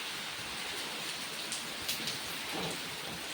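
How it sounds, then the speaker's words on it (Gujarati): Heavy rain pours steadily in a continuous hiss, near and unbroken, with faint patters on the surface and no voices. "આમ જો દેખો ત્યાં સુધી વરસાદ વરસાદ વરસાદ."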